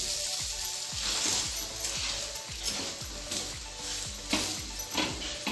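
Oil hissing as it is poured around the edges of a green spirulina omelet in a pan, a soft continuous sizzle with faint clinks and scraping pulses recurring at a steady rhythm.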